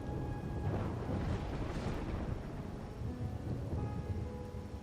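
Steady rain with rumbling thunder in a stormy scene from the video game Wuthering Waves, a broad continuous downpour with low rolls swelling and fading, loud and close, no voices.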